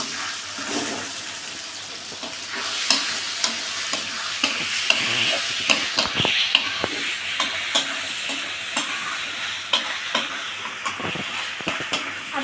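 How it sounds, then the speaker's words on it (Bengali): Meat for a spicy, sour and sweet curry is stirred in a frying pan, with repeated scraping spatula strokes over a steady sizzle, close up and with no voices. "মাঝে মাঝে তুলে ঢাকনাটা তুলে নেড়েচেড়ে আবার ঢেকে দেব"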